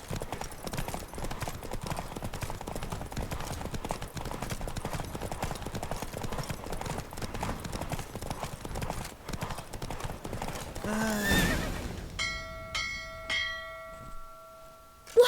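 Hooves pound rapidly and steadily as a horse gallops in a race in The Witcher 3, loud and continuous, then fade as a bright, ringing bell tone takes over near the end.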